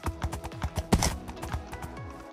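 Horse hooves gallop in Minecraft in a fast, even clip-clop rhythm of close, distinct thuds with no break across the whole stretch.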